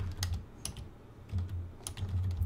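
Keys clatter on a computer keyboard as a script name is typed, three short bursts of quick clicks spread over a couple of seconds, close and fairly quiet with no talking.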